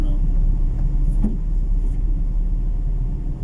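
Heavy traffic on the main road in Canlaon, Negros Oriental, Philippines, a loud, continuous low rumble of engines with a brief passing vehicle sound partway through, steady and close.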